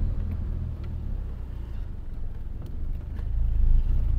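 A Mitsubishi Eclipse engine idles at low RPM with a deep, uneven rumble that stumbles and surges as it misfires, swelling a little louder toward the end.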